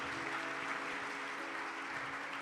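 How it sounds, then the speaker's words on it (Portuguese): A church congregation applauds together in steady, dense clapping that holds at an even level from start to finish, with no pauses and nothing else over it. "Amém, pode aplaudir, é sempre para Deus."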